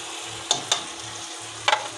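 Tomatoes fry in a pan with salt and red chilli powder, a soft steady sizzle broken by a few quick scraping stirs of a spoon.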